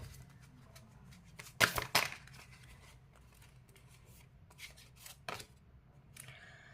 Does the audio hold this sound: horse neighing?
no